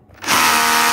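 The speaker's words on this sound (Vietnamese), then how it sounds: "Chế độ này là chế độ khoan bê tông, có búa này đập rất là kinh khủng rồi." A Makita cordless drill in hammer mode bores into concrete, spinning up after a brief quiet start into a loud, steady, close-up grinding whine that holds to the end, with no voices.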